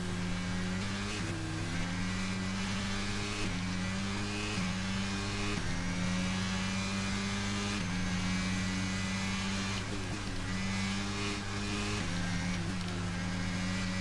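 A Formula 1 race car engine in F1 22 drones steadily throughout, its pitch stepping up and down repeatedly through gear changes, loud and continuous with no pauses.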